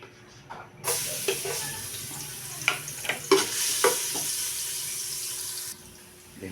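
Garlic hitting hot oil in a pan for a mung bean dish, a sudden loud sizzle that hisses steadily with scraping stirs and small pops, close up, then fading as the heat settles.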